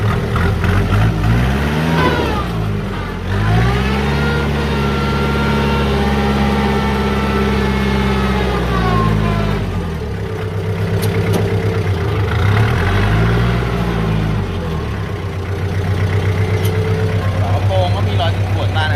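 A used Kubota M5000SU tractor, fitted with a blade and rotary harrow, runs with its PTO at 540 rpm in slow fourth gear. The loud, close diesel drone surges and eases in pitch, and someone talks over it.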